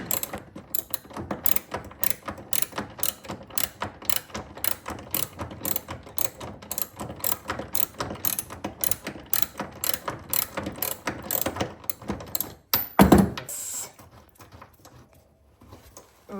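A ratchet wrench clicks rapidly in steady bursts while a nut is worked off a Lotus Esprit body, close and loud, then stops with a thump and quieter handling as it comes free.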